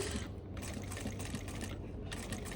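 A sewing machine stitching fabric runs continuously with a rapid, steady mechanical whir and clatter, close and moderately loud throughout.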